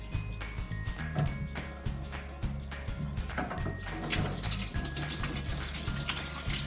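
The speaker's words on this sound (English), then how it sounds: "it's very important that we need to wash our hands and use lots of soap" A tap runs steadily while hands are washed with soap beneath it, a continuous close splashing and gushing of water with small shifts in the flow, heard alone without voices.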